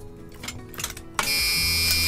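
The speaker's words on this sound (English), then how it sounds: "That's a real old-school buzzer sound." Warning buzzer in an old Ford F-350 pickup starts abruptly after quiet cab background noise and holds as a loud, steady, continuous buzz with harsh harmonics until the end.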